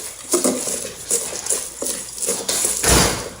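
Coleslaw being stirred in a bowl for slow cooker Korean pork tacos: a utensil scrapes and knocks against the bowl in a run of irregular clattering strokes, fairly close, with no talking.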